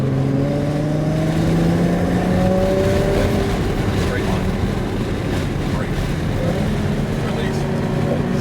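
A sports car engine drones loudly and steadily on a race track, rising in pitch as it accelerates, with wind rush over the microphone and a voice coaching over it.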